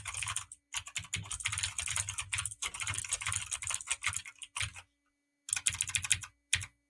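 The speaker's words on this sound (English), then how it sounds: "you can hear the click on the spacebar" Keys clatter on a clicky gaming keyboard in quick, dense bursts of sharp typing, with spacebar clicks mixed in. Brief pauses separate the runs.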